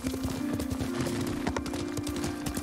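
Horse hooves clip-clop in a quick, steady rhythm in the video game Ghost of Tsushima, close and clear, with a sustained musical tone humming underneath.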